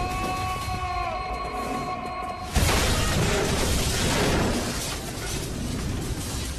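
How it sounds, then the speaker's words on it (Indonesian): A bomb blast in an action film, a sudden loud burst cutting in partway through and rolling into a long, heavy, noisy rumble. "langsung meledakkan bom"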